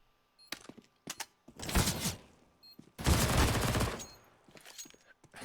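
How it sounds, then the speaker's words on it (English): Counter-Strike gunfire from an MP9 during a 5v5 tournament match comes as two dense, loud bursts of rapid shots, with scattered single clicks and thumps of gameplay around them and no voices. "Elementor attempting the flank, being eliminated by the MP9"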